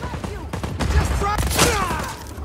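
Gunfire in the video game Just Cause 4, with a loud burst of rapid shots and booming impacts layered together, a speaking voice mixed in.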